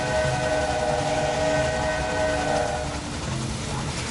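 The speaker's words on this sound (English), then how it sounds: "There it is, the train." A small 1830-era steam passenger train running in the video game Hill Railroads, a steady loud rumbling drone with tonal whistle-like lines throughout, no talk.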